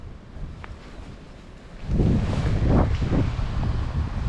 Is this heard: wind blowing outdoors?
yes